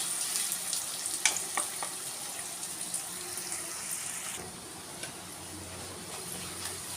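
Onions browning in a pan for a Bengali home-cooked pulao and meat dish, a soft continuous sizzle with occasional clinks and stirring, moderately close and fairly quiet, with no talking.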